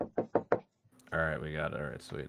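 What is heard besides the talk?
knocking on a door, from a pizza delivery video clip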